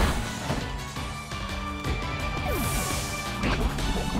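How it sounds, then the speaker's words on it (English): A skunk Pokémon's poison spray attack lands in Pokémon Legends Arceus, a loud crashing game hit with bright synthetic whooshes and a sweeping effect over a dense musical background. "Stinky skunk spray."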